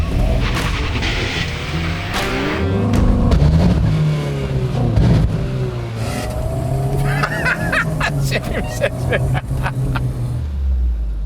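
Drag race between a new Golf GTI and a Toyota GR86 and other cars: loud engines revving hard and climbing through gears, with rising and falling engine pitch and rattling mechanical noise toward the end.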